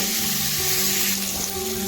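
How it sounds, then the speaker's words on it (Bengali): Potato pieces frying in a pan make a continuous, dense hiss of sizzling oil, close and even across the short stretch, with no voices. "এবার আমরা ভেজে নেব আলু।"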